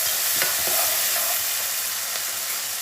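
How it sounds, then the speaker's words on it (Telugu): Onion pieces drop into hot oil with mustard seeds and dal for a cluster bean masala fry, giving a loud, steady, close sizzle with stirring scrapes throughout and no voices. "ఇదిగోండి ఆవాలు, సాయిపప్పు వేగి ఉల్లిపాయ ముక్కలు వేస్తున్నాను."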